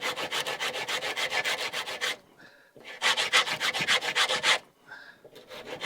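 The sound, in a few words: sanding stick rounding over solid wood stock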